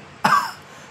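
A single sharp, close cough bursts out and fades quickly in a quiet room.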